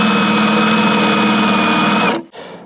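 A drill with a 10 mm bit drilling out spot welds on a Land Rover Defender 90 bulkhead, a steady loud whirring grind that runs for about two seconds and then cuts off abruptly.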